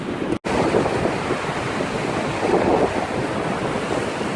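Steady, blustery wind roars across the microphone at the seaside near cliffs in Calpe, a constant rushing noise with surf underneath, briefly cutting out near the start.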